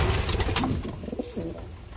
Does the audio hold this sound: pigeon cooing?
yes